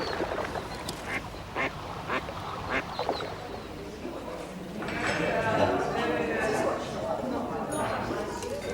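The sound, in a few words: ducks quacking by the water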